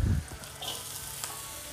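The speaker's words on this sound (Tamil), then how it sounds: "உருளைக்கிழங்கு போட்டு நல்லா தாளிச்சிக்கோங்க" Finely chopped potatoes drop into hot oil with tempering spices and curry leaves, starting with a soft thump and then settling into a close, steady sizzle and crackle for a brief moment.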